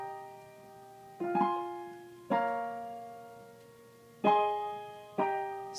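Piano chords from a section of a song ring out alone, struck in five spaced attacks that each sustain and slowly decay, clear and close with no voices.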